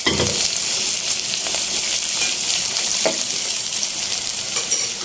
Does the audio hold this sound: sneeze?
no